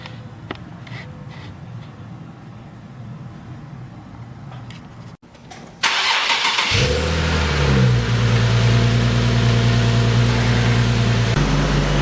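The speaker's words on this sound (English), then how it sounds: "we're gonna go ahead and turn the car on, let it idle" A Nissan 370Z engine cranks and fires at about six seconds, flaring briefly before settling into a steady, loud idle that holds to the end; faint clicks and quiet handling noises come before the start.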